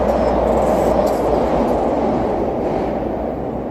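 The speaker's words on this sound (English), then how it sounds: "That's the Red Line subway there heading through." A Chicago Red Line subway train runs through on an outdoor street walk, its loud continuous rumble and roar steady throughout, with faint wheel clatter and no talking.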